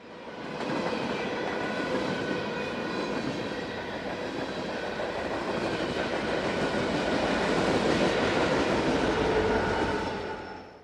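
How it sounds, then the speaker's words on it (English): A Kansas City Southern freight train passes, its rear locomotive bringing up the end, heard as a steady, fairly faint rolling rumble of rail cars with light clickety-clack and faint wheel squeal over about ten seconds. "As the KCS Veterans Unit number 4006 brings up the rear of the train"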